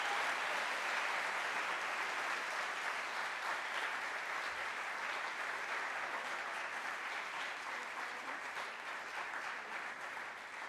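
Applause from the crowd at a school academic awards ceremony for award recipients, a faint, somewhat distant wash of many hands clapping that continues steadily throughout.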